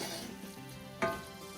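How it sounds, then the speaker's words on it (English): Tofu sizzling as it is stirred into a tomato and onion mix, a close, soft, constant frying hiss with a brief utensil scrape and clink partway through. "We gently stir our tofu into our sauté mix, or into our tomatoes and onion mix"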